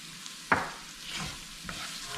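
Onion frying with Knorr Suiza seasoning in a pan, a soft steady sizzle broken by a sharp scrape of a utensil stirring, then quieter stirring sounds, close and without talk.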